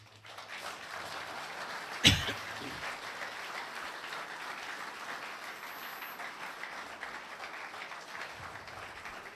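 A church congregation at a French-language worship service applauds steadily for the Holy Spirit, a dense wash of clapping with a sharp clap or knock near the start, lasting throughout at moderate volume.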